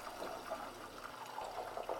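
Butter bubbling in a pan at medium heat as it turns into ghee, a faint, continuous soft crackle and fizz with no speech.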